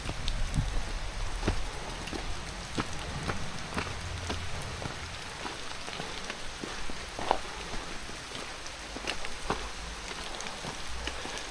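Steady rain falls on a mountain path during an ascent, a dense continuous patter with scattered sharper drops hitting close by, even and unbroken throughout with no voices.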